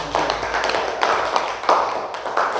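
A classroom of pupils claps for a classmate returning to her seat, a brisk, uneven patter of many small hands, close and moderately loud, running the whole time.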